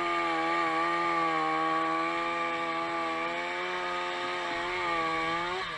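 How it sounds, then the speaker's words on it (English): A firefighter's power saw cuts into an apartment building roof during vertical ventilation, a loud continuous high-pitched engine whine that holds steady for several seconds, its pitch dipping slightly near the end as the blade bites. "the footage shows a fireman drilling into the roof of an apartment building using a technique called vertical ventilation"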